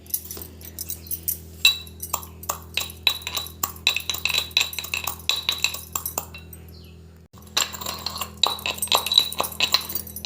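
Sugar granules ground in a small mortar and pestle, giving a run of close, sharp clinks and gritty scrapes in uneven bursts, with a short pause partway through before the strokes resume; no one speaks.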